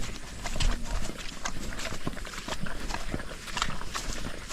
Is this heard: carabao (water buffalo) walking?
yes